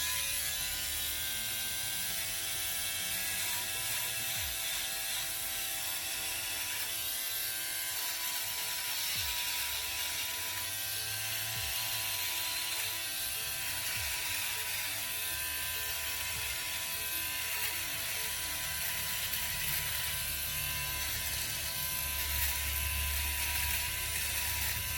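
A Philips OneBlade Pro electric shaver cuts stubble close up, giving a steady buzzing hum with a faint rasping texture that runs unbroken throughout.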